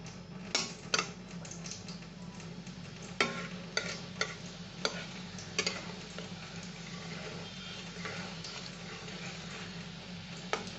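Green chilies fry as a tempering in a pan with a soft, steady sizzle, punctuated by scattered clinks and scrapes of a spoon stirring, fairly quiet and close.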